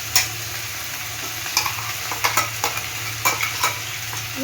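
Poppy seed and green chilli paste stirred as it fries in a pan, a steady sizzle broken by several soft scraping strokes of the spoon.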